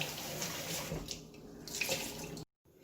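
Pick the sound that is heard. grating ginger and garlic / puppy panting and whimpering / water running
water running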